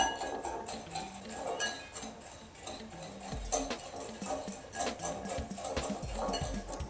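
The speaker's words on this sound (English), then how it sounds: "take your whisk and you just mix all of these together" A whisk stirs pure cane sugar and other sugar scrub ingredients in a bowl, making rapid rhythmic scraping and light clinking against the bowl, close up and fairly quiet, continuous for several seconds without talk.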